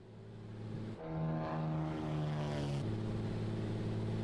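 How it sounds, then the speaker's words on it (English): Beechcraft Bonanza in a flight simulator with a steady propeller and engine drone, a shift in pitch and tone as the landing gear lowers in flight, no voices. "Right, let's drop the gear."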